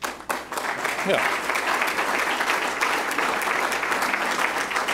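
An audience claps at a political address by a state treasurer, a sustained, even patter of many hands after a short opening burst, with a brief spoken word near the start.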